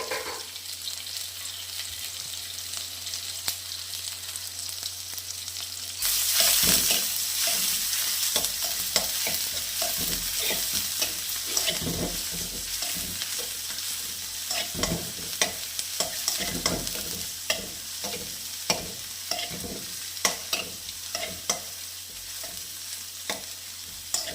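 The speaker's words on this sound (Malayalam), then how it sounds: "നമ്മുടെ ചെറിയുള്ളി നന്നായിട്ട് വഴണ്ട് വന്നിട്ടുണ്ട്" Small shallots and garlic frying together in a pan for a radish stir-fry, with a steady sizzle broken by repeated scraping stirs, louder after the first few seconds and continuing without any voices.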